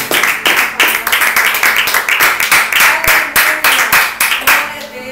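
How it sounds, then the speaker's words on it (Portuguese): Church congregation clapping to praise the Lord during a Brazilian Portuguese sermon, a loud steady rhythmic clapping that carries on for several seconds before thinning out at the end. "as palmas louvem ao Senhor"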